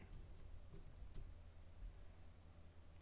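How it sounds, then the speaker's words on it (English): Soft, quick keystrokes on a computer keyboard entering a material search, a faint run of light clicks heard alone in a quiet room. "I'll just type in acetate."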